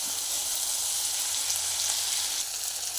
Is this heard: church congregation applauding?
no